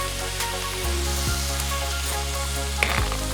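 Creamy Cajun pasta sauce being stirred on a Blackstone griddle, a continuous dense sizzle with a low steady hum beneath and a soft scrape near the end, close and even in level.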